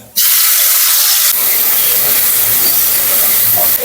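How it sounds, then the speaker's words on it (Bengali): Small shrimp hit hot oil in a wok with a sudden loud burst of hissing sizzle that stays dense and steady, close by and alone. "চিংড়িটা দিয়ে দিচ্ছি কড়াই তেল গরম হয়ে গেছে"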